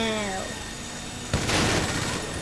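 A single loud pump shotgun blast in GTA V goes off abruptly and is followed by a noisy rumbling tail, with faint tones underneath beforehand.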